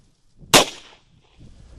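A single sharp shot from the top barrel of a Bond Arms Ranger pistol fired at a target ten feet away, loud and close with a brief decaying tail, followed by quiet.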